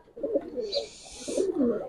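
Silver, red-footed and military pigeons coo nearby, with a couple of deep, throaty rolling calls overlapping each other, close and fairly loud with no speech.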